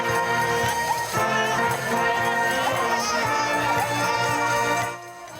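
A band plays a song as Pope Leo greets a crowd, a full, steady recording of music with crowd murmur mixed in, ending abruptly.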